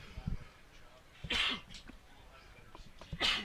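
A person sneezes twice, two short bursts spaced a couple of seconds apart over faint background chatter, near and moderately loud.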